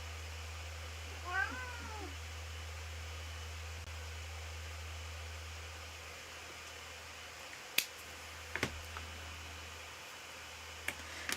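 A pet cat meows once, a short rising-falling call near the start, over steady low room hum, followed by quiet stretches broken by a few sharp clicks and taps.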